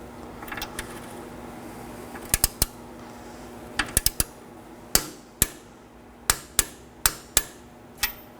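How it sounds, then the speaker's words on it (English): A castle nut is tightened and torqued to 25 foot-pounds on a front outer tie rod of a 2013-2019 Nissan Sentra: sharp, close metallic ratchet clicks in short bursts, then single evenly spaced clicks, over a faint steady hum. "We're going to snug it down, then torque it."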